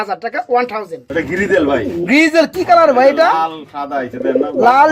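Fancy pigeons cooing at a pigeon farm, including white, almond and grizzle birds; several overlapping coos and calls sound close and steady throughout, mixed with someone talking.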